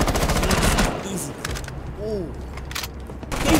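Video game gunfire during a tense multiplayer round, with loud rapid bursts of shots at the start and end and scattered single shots and game effects in between, alongside excited voices.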